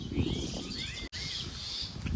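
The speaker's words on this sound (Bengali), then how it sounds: "আর দেখতে পাচ্ছ সকাল সকাল পাখিরা কিচিরমিচির করছে।" Birds chirp and tweet around a village in the early morning, with bright, overlapping calls at moderate distance over a low rumble of background noise and a brief dropout partway through.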